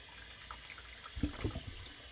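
Tap water running into a kitchen sink while a raw turkey is rinsed out. The stream is a steady, low hiss, with a few soft splashes and sloshes in the middle as the bird is handled.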